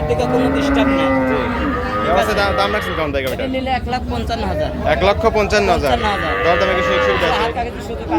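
A black Jersey cow moos repeatedly at close range, loud drawn-out lows at a dairy cattle market, with people talking in the background.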